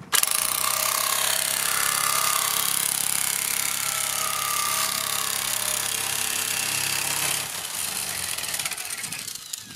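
A Parkside PMKA 20-Li cordless nibbler cuts through sheet metal with a loud, rapid, continuous mechanical chattering and buzzing up close, easing slightly near the end, with no talking.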